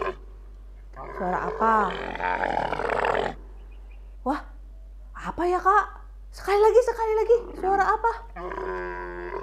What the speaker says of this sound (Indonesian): Iya, itu suara unta ya adik-adik.